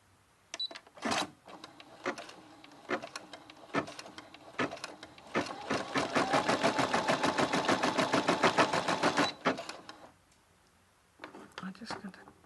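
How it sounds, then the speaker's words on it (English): An embroidery machine stitches a motif through two hooped layers of fabric and wash-away stabiliser. A rapid, even mechanical chatter builds to a sustained loud run, then stops, with scattered clicks before and after and quiet speech at times. "I'm just going to set the machine to go and it will stitch out the design for me."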